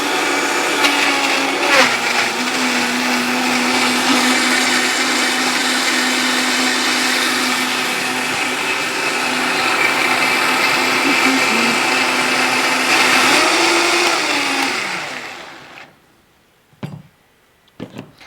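A blender whirs loudly and steadily while blending a raw-food sauce with turmeric and salt, running for about fifteen seconds before spinning down; a few light clinks follow in near silence.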